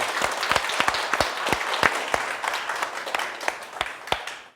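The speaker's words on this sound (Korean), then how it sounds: "박수." An audience applauds to welcome a guest instructor at a waltz dance lecture, a loose spread of individual claps with distinct sharp hits that stays close and continues for several seconds before fading.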